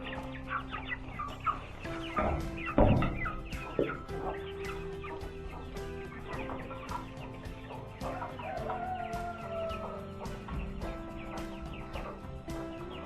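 Sebright bantam chickens cluck and chatter close by while they eat, with soft overlapping calls and a few louder squawks over a busy barnyard background.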